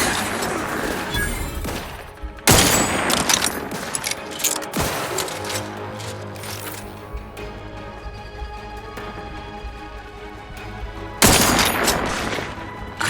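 Video game gunfire in The Outer Worlds 2 rings out in loud, dense bursts of rapid shots with booming impacts, bursts at the start, around the middle and near the end, with quieter mechanical combat noise between.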